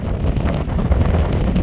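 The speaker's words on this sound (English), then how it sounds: "wind here is gusting at least 30, 40 miles an hour" Strong wind gusting at 30 to 40 miles an hour by a river on the Appalachian Trail in Virginia buffets the microphone in a steady, heavy low roar that lasts throughout.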